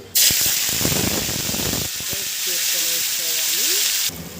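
Onions hit hot oil in a pan with bay leaves for a mutton curry, setting off a loud, steady sizzle that fills the whole clip before cutting off at the end, with a faint voice underneath.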